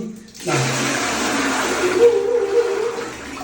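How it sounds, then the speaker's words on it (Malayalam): Water is poured into a toilet bowl and drains away with a sustained rushing, gurgling flow, loud and close, lasting several seconds. "ഈ ക്ലോസറ്റിലേക്ക് ഒരു ഫുൾ നിറവ് ഒക്കെ വെള്ളം അത് ഒഴിക്കുകയാണ്"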